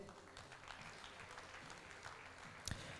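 Faint applause for a jury member at the women's 10 m air rifle final of a French championship, a soft, even spatter of clapping from a distant crowd with no talking.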